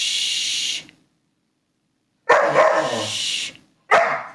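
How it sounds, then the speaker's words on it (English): A Bernese mountain dog barks and vocalises close by indoors in three loud bursts. A long one and a shorter one are separated by a pause of over a second of silence. "all Bernese mountain dogs get to this stage where they just want to talk constantly"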